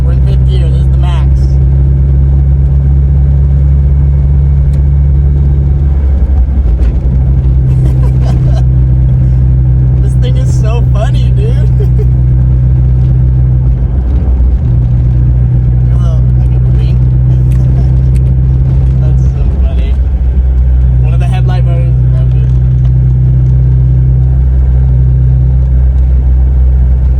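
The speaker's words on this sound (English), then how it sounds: "We're in 5th gear, this is the max." A Mazda Miata engine drones loud and steady at full throttle in fifth gear from inside the cabin, a constant low hum with slight dips, while people talk over it.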